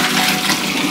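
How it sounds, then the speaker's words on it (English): Very hot, near-boiling water pours and drains steadily from zucchini pasta, a brief continuous rushing splash. "I'm going to put it in some very hot water, close to boiling. Drain it out."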